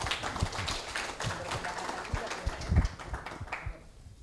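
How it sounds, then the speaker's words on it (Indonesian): Scattered audience clapping at an outdoor stage show during the Dieng Culture Festival, a dense patter of hand claps at moderate distance that thins out toward the end, with no voices over it. "Tepuk tangan."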